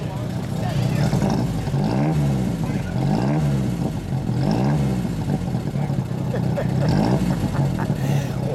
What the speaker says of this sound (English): Let me get just a little exhaust note.